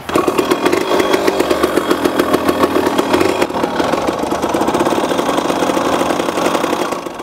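A cheap two-stroke motorcycle engine fires up and runs, a loud close rapid ringing putter with a steady rhythmic pulse that settles into a rough idle.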